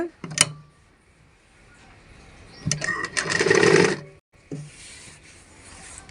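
A sewing machine stitches a skirt made from a saree, whirring in a short run of about a second, preceded by clicks and handling noises and followed by quieter fabric rustling.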